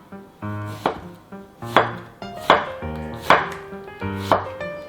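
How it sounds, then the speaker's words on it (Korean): A knife cutting half an onion into thick strips on a cutting board: six firm, evenly spaced chops, close and crisp, each with a short ring-off, alone without talk. "채를 썰어 주시는데 도톰하게 썰어서 준비해 주시면 돼요"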